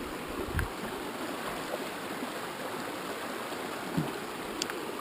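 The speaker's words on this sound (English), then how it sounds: "This is Rockpile Creek." Rockpile Creek on the Pacific Crest Trail in Washington rushes steadily in a soft, even wash of flowing water, heard alone with a few faint knocks.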